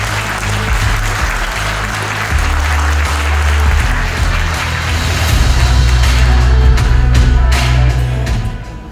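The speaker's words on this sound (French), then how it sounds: "Applaudissements." An indoor audience applauds at an official sports presentation in Nogent-sur-Oise, dense sustained clapping lasting nearly nine seconds, swelling midway over a low hum before thinning out at the end.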